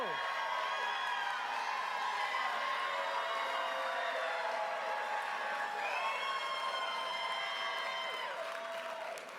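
A large crowd in the Historic Westside of Las Vegas cheers and claps for President Joe Biden, a sustained roar of shouts and whoops filling the space at a steady level before easing slightly.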